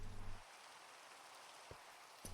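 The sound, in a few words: rain falling in Minecraft video game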